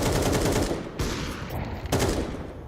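Counter-Strike 2 rifle gunfire in a professional tournament match, loud rapid shots in quick bursts with sharp cracks and a brief pause between volleys, no talking.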